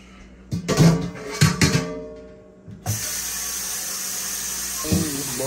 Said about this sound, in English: we're going to wash these greens real quick